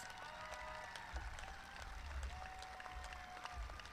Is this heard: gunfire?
no